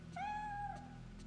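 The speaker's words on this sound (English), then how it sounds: "I just heard a cat." A single drawn-out cat meow rises and falls inside the Fatal Frame 3 game, clear and fairly close against a low, steady ambient hum, with no talking.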